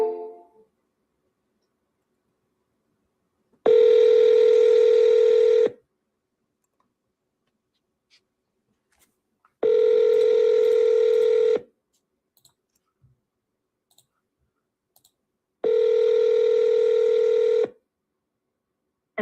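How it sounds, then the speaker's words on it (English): An outgoing telephone call rings on the line: three long, even ringing tones about two seconds each, spaced by quiet gaps of roughly four seconds, heard clearly with no voices. "I'm going to give this guy a call"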